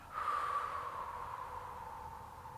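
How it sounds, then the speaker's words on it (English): A single long, audible breath during a yoga session, a soft airy nasal exhale that starts suddenly and trails off gradually, close and quiet with no talking. "Breathing in, breathing out."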